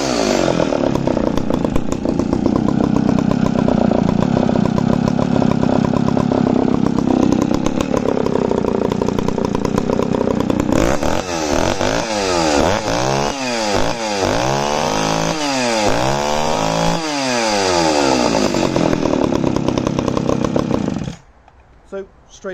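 A vintage Echo CS-701SVL 71cc professional chainsaw runs loud and close, holding a steady high whine, then revving repeatedly in sharp rising and falling bursts before cutting off near the end.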